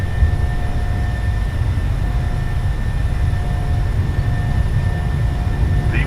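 A PMDG 737-700 rolls down a bumpy runway at takeoff power in Microsoft Flight Simulator, its jet engines a loud, continuous roar with a steady whine held throughout.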